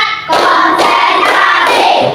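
A class of standing students claps together in a counted rhythm routine, a quick burst of several loud, sharp beats, close and crowded, with no talking.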